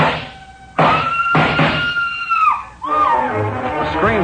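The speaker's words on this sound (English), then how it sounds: "A scream filled the house, high and frenzied." A high, frenzied scream from an old-time radio detective drama rings out in long, piercing wails broken by brief pauses, loud and close, with a rising, wavering cry at the end.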